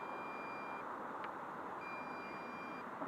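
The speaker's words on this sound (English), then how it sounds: "it beeps to tell you it's landing as well" A Bugs 2W drone sounds two steady, high electronic beeps while landing, each under a second long and separated by a short pause, over constant outdoor wind and rotor noise.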